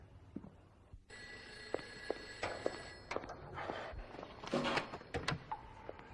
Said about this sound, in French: quand le téléphone a sonné